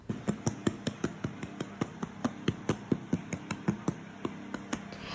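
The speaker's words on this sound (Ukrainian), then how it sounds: "Ось такий звук повинно віддавати висушене добре бізе." Fingers tap on a well-dried meringue layer baked low and slow for a cake, giving a steady series of about twenty crisp, hollow knocks at a regular pace, close up and with no voices.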